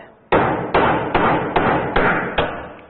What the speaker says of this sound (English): you want a brass head hammer, nice heavy hammer. We're going to make some noise.